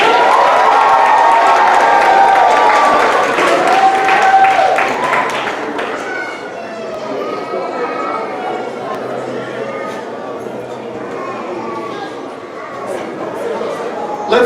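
Crowd applause and cheering for new first graders at a kindergarten promotion ceremony, loud and sustained at first, then fading into murmuring chatter with scattered claps.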